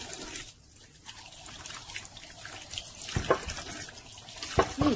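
Tap water runs into a sink while peeled potatoes are rinsed, a steady close splashing with occasional clunks and bursts of water against the bowl.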